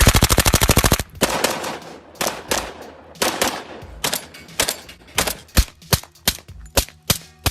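Gunfire in competitive shooting by a young woman shooter: a rapid rattling burst of shots at close range, followed by a string of sharp single shots at a quickening, irregular pace.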